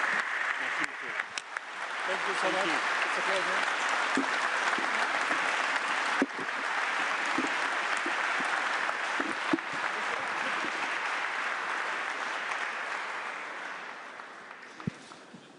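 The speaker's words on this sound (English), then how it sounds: "One more applause." Sustained audience applause in a conference hall at an EU industry summit, steady and full for most of the clip before fading toward the end, with a speaker briefly talking over it.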